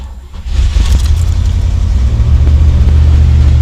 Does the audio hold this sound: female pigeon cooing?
no